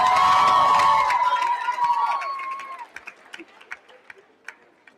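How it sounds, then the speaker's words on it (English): A graduation audience cheers a guest speaker, a loud crowd roar with a sustained whistle or shout that fades after about two seconds into scattered claps and sharp isolated bursts. "Come on, cheer Mr. Darby"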